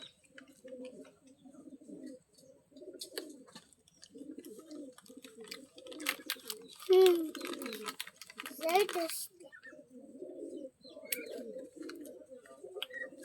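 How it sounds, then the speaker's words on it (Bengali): Pigeons, including a female, coo softly in repeated low, rolling phrases throughout, close by in a loft, with brief wing flutters and rustling in the middle. "তো এই সে মাদি কবুতর"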